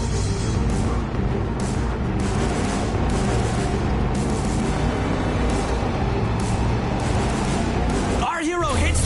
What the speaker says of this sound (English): Our hero hits the jump and wham! There's an explosion!